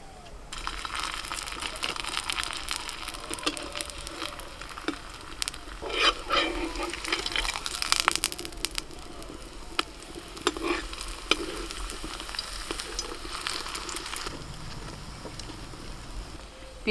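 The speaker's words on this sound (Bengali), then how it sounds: "পিসিমা বেলে দিচ্ছেন আর আমি একটা একটা করে ভেজে নিই।" Layered parathas fry one after another in a pan with a steady, close sizzle that runs throughout. Occasional sharp scrapes and taps from turning the flatbreads cut through the hiss.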